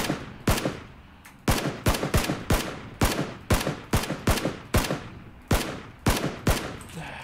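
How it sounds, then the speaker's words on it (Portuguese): Rapid gunfire in the battle royale video game Battlegrounds: about a dozen sharp, loud shots fired in an irregular burst over several seconds, each with a short decaying tail, with no voices. "Consegui errar todos os tiros possíveis"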